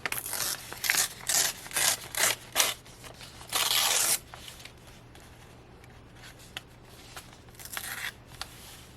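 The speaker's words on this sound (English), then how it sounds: "I want to rip this to make a tuck spot." Paper being ripped by hand to make a tuck pocket for a junk journal, heard as several short tearing bursts and one longer rip up close, followed by quieter rustling and handling.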